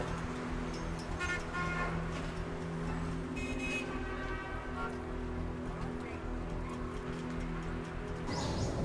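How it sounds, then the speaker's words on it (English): Car engines idle in traffic at a junction, a dense steady rumble of motors with horn toots and bird calls mixed in, continuous and fairly loud throughout. "So the car is not stopped at the junction. They are running their engines, make very much air pollution."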